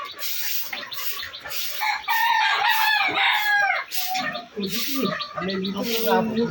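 Roosters at a poultry farm crow loudly and repeatedly, overlapping with clucking fowl and brief human voices amid the busy flock.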